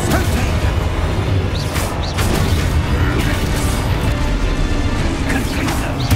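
Spell blasts in Hogwarts Legacy gameplay, with a dense, loud run of booming impacts, crashes and whooshes layered over continuous game noise, several bursts in quick succession.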